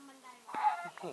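A Minecraft chicken clucks in a few quick, close clucks, with speech-like sounds mixed in.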